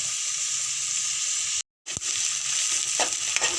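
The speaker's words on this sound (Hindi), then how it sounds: "हम तुरंत डालेंगे इसमें शिमला मिर्च। अब दोनों चीज़ों को हम साथ में भूनेंगे।" Capsicum fried in a pan for pav bhaji, a dense close sizzle with a brief gap, then a spatula clack and occasional stirring scrapes.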